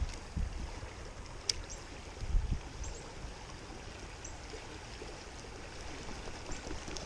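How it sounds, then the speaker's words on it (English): A rain-swollen creek rushes fast past the bank during an early-season fishing outing on Indian Creek, a steady, fairly soft wash of flowing water with a few small knocks and splashes nearby. "What was once a slow moving creek is now moving pretty quickly."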